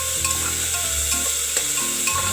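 Potato pieces sautéing in a pan for sweet goody dal, a steady soft sizzle with occasional scraping stir strokes, close and continuous with no talking.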